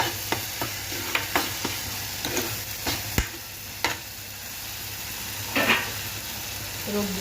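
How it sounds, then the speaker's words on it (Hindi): Bitter melon frying in a pan while turmeric is stirred in, with a steady sizzle underneath and a series of sharp spoon scrapes and taps against the pan, some louder than others, heard close up. "1/2 टीस्पून हल्दी और डालेंगे। अच्छे से मिक्स करेंगे।"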